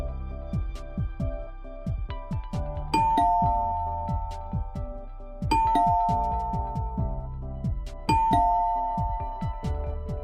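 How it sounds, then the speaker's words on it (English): A doorbell chimes in a repeated ding-dong pattern, three rings spaced a few seconds apart, each tone ringing out and decaying, loud and clear with no voices. "He rang the bell 3 times"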